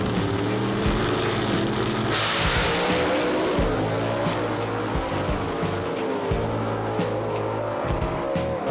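A 1933 Willys gasser drag racing at Knoxville Dragway, its loud engine roaring and changing pitch through gear shifts, with a burst of tire noise early on.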